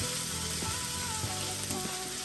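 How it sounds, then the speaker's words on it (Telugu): Chopped green capsicum tossed in hot oil for veg Manchurian, a steady loud sizzle and frying hiss heard close up and continuous, with a few faint stirring knocks underneath. "వేడి నూనెలో టాస్ చేయాలి మనం."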